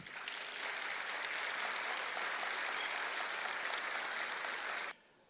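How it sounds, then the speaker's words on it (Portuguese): Sustained applause from a lecture audience for a speaker being called to the stage, dense steady clapping lasting about five seconds before cutting off abruptly. "Uma salva de palmas."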